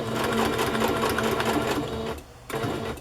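A sewing machine stitches through metal on a boho cover craft project, running loud and close in a steady whirring burst, stopping briefly, then starting again.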